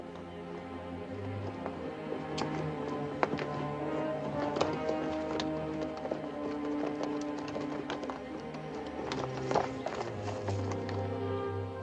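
A horse's hooves clip-clop at a walk in a Wild West setting, a steady rhythm of sharp knocks against a low background hum, with no voices.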